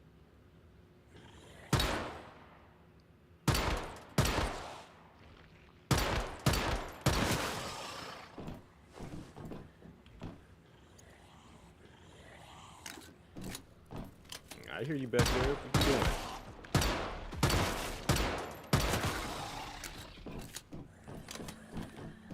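Bursts of video game gunfire crack out in scattered volleys, some quick rapid clusters, under a casual voice talking over the play.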